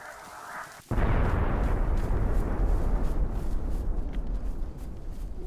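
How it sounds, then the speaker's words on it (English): Distant bomb blast in DayZ, a sudden deep boom followed by a long rumbling roll that slowly fades, with no talk. "Did you hear the bomb?"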